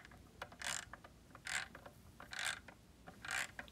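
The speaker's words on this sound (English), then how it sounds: "We're going to tighten this nut to 350 foot-pounds." A torque multiplier ratchet tightens a nut toward 350 foot-pounds, giving four evenly spaced bursts of clicking ratchet strokes with faint ticks in between, close and quiet with no talk.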